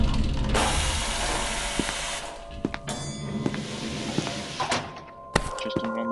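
A machine runs in the SCP Containment Breach video game, a dense mechanical clatter of grinding gears and ratcheting clanks with heavy thunks and hissing, loud and continuous throughout with sharp knocks near the end.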